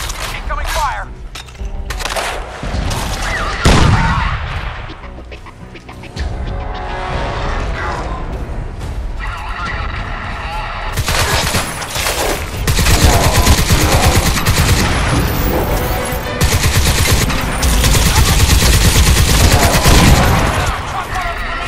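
Heavy gunfire erupts in Crysis 2 on PC, with rapid machine-gun bursts, sharp cracks and booming impacts coming loud and close in dense waves while voices shout over the fighting.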